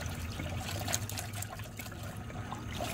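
Coolant being poured into a car radiator while filling the cooling system, a steady trickling, gurgling liquid stream that runs continuously, close and moderate in level.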